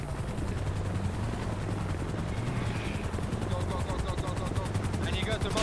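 A red helicopter in a video game roars with a dense, steady rotor wash throughout, with rapid gunfire bursts crackling over it and voices talking underneath.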